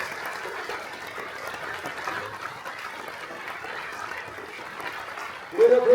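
A crowd at a town mayor's New Year reception in Vence applauds table tennis champion Flora Gauthier, a steady sustained clapping throughout, with a voice rising briefly near the end.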